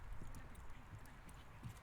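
Horses' hooves clip-clop on a group ride as several riders come along behind, a faint, loose rhythmic patter of footfalls without talk.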